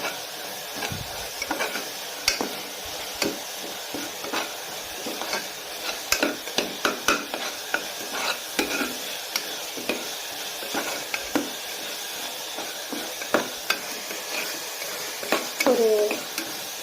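Onions being sautéed in a pan for chicken gravy give a continuous soft sizzle under frequent stirring scrapes and clacks of a spatula against the pan, fairly close and steady throughout.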